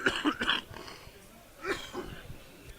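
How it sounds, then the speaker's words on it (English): A football commentator coughs during a Slough Town vs Gloucester City match: a cluster of quick close coughs at the start, then another shorter cough a moment later, over low crowd ambience. "Apologies, a bit of a cough at the moment."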